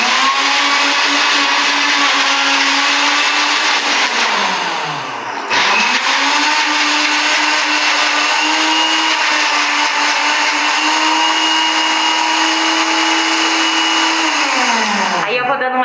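A kitchen blender whirs loudly and steadily, blending a thick dough mixture that includes avocado, with a brief dip in motor pitch midway as the load shifts, then winding down at the end.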